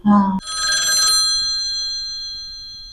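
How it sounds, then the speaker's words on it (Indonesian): A hotel reception desk telephone rings with a bright electronic trill, loud and close, after a short burst of a deeper tone; the ring then fades away slowly. "tiba-tiba banget tuh telepon meja resepsionis bunyi kak."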